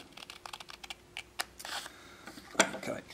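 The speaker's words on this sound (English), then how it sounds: "I'm going to cut it down in perhaps a classic sort of fin shape and then cut it off square like so" Scissors cutting through card to shape a classic rocket fin, a run of short crisp snips followed by a few louder cuts, close up with no talking.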